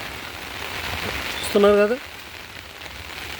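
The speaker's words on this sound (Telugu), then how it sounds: "వర్షం కురుస్తున్నాగా వీడియో చేస్తున్నాం ఫ్రెండ్స్" Heavy rain pours steadily onto a garden with a flowering tree, a dense continuous wash of patter throughout, with a brief voice speaking partway through.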